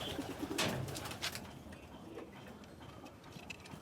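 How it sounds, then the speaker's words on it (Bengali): Racing pigeons coo around a loft, low murmuring calls mixed with soft fluttering and clicks over a steady background hiss, with no talk. "এই যে কবুতরটা উপরে ডিস্টার্ব করার চেষ্টা করতেছে"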